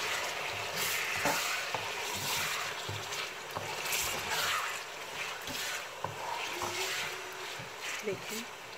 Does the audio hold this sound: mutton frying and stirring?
yes